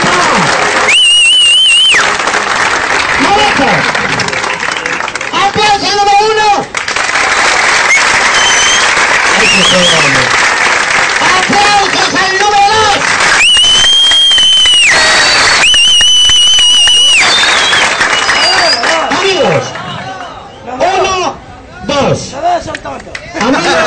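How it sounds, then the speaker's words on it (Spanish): Long, loud audience applause at a comedy show, dense clapping mixed with crowd chatter, whistles and shouting, fading to scattered claps and voices toward the end. "¡Aplausos!"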